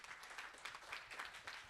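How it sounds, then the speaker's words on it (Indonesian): Church congregation cheering and applauding at a Sunday worship service in Makassar, a steady wash of clapping and voices lasting under two seconds, dense and even throughout. "Kita beri sorak-sorak buat Tuhan ya."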